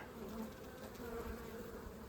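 A steady, low drone of honeybees buzzing at an apiary, soft and continuous, with no voices.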